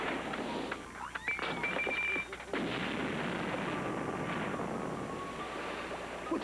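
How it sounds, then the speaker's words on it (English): Cartoon fireworks go off in a dense, loud burst of crackling blasts and booms, with a brief whistling streak near the start, a short dip, then a sustained rumbling barrage with no talking. "These fireworks should be enough to get us to the moon."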